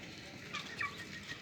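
Chickens in a tall backyard coop cluck in short, scattered bursts, a few sharper calls standing out over quiet background noise at moderate distance.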